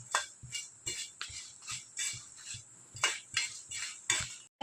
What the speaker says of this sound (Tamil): இப்போ நம்ம எடுத்து வச்ச பருப்பு எல்லாத்தையும் எடுத்து வச்சதெல்லாம் வறுக்கணும்